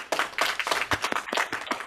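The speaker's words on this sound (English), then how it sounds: "That deserves a round of applause." A small studio audience at a puppet-themed podcast claps, giving a brief burst of scattered hand claps that stays steady for about two seconds.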